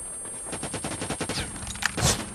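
Rapid automatic gunfire in the mobile shooter game Call of Duty Mobile, a quick rhythmic burst of close shots lasting about two seconds, with a couple of sharper impacts near the end.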